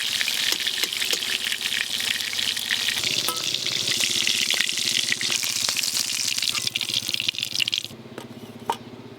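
Hilsa fish frying in hot oil, a loud continuous sizzle with crackling spatters and occasional clinks, easing off near the end when the heat drops.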